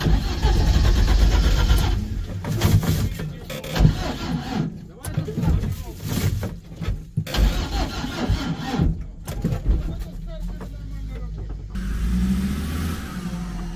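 An off-road car's engine turns over on the starter and revs unevenly in bursts, close and loud, with people talking over it.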